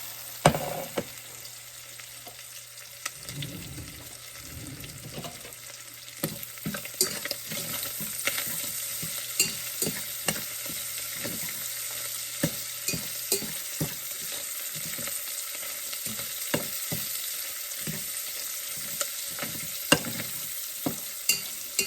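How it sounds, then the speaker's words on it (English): Bacon frying in a pot for a creamy pumpkin soup, with a steady crackling sizzle and frequent sharp pops and scrapes of stirring, close and continuous throughout, without speech. "Cooking down of the bacon."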